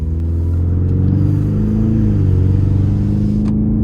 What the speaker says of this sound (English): let's go ahead and take this 2026 Mustang Ecoboost Premium out on the road for a test drive